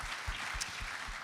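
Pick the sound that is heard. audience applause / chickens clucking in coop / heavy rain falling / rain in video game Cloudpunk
audience applause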